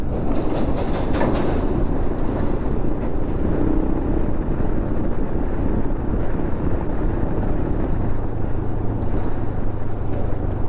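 A train crosses the Konkan Railway bridge near a highway, producing a loud, continuous rumble with rattling wheel clatter that holds steady throughout.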